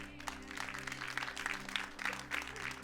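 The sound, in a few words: applause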